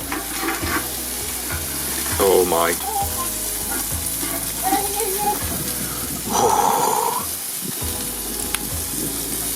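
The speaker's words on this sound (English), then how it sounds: "Sizzling." Blue lobster meat laid down in garlic butter gives a steady close sizzle throughout, with a couple of brief exclamations from a man over it.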